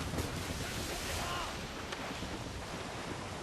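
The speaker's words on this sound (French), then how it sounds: "Qu'est-ce que ça fait des vagues?" Ocean waves at sea in the video game Assassin's Creed Rogue, a steady broad wash of surf and wind noise throughout, with no clear breaks.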